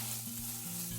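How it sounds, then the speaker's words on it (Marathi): Softened khava (milk solids) sautéing in a pan over low gas gives a soft continuous sizzle with quiet scraping stirs, close and steady, with a faint hum underneath. "2-3 मिनिट परतून घेते."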